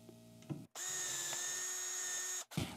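A drill fitted with a 6 mm guide in a doweling jig pre-drills a hole in a board, giving one steady high whine of nearly two seconds, close and loud, with small knocks before and after.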